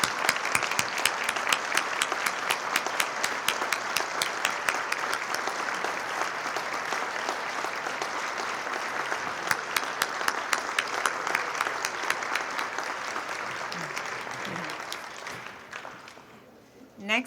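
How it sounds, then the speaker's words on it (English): Audience at a city State of the City and employee recognition event applauds the assembled city staff, a long sustained round of crisp clapping from a large crowd that fades out near the end. "if we could give them a round of applause"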